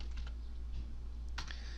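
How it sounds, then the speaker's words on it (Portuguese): Quiet, close computer keyboard typing, a few light scattered keystrokes over a low steady hum, with no talk. "dá Enter, pode continuar digitando"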